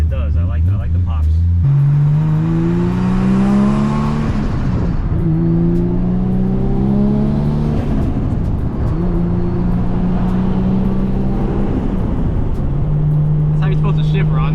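A Millennium Jade Nissan Skyline R34 GT-R M-Spec Nür with a downpipe revs up through the gears, engine pitch climbing and dropping across several shifts, with crackling exhaust pops in between, loud and close, while people talk over it.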